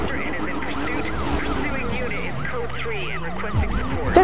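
Wailing police car siren in the Need for Speed Rivals racing game, rising and falling in repeated sweeps over a steady engine drone throughout, with a brief louder bump near the end.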